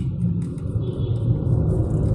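A motorcycle passes close on a road during a ride, giving a loud, steady low engine rumble that holds evenly throughout with no talking.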